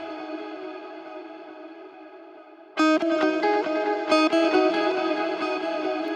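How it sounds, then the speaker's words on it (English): A sustained guitar tone suddenly gives way to sharp repeated notes that smear and ring out into shimmering, wavering echoes, loud and close. "It's just a fantastic modulated delay that echoes out when that happens."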